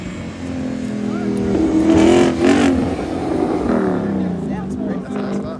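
A car with a loud aftermarket exhaust at a rolling exhaust show and competition revs hard, a rough, booming surge peaking briefly mid-clip over a steady crowd and engine din, with people talking nearby.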